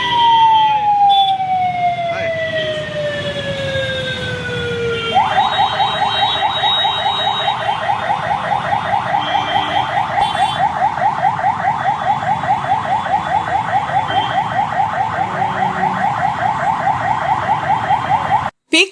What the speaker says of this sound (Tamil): வாகன நெரிசலில் ஆம்புலன்ஸும் சிக்கிக் கொண்டது.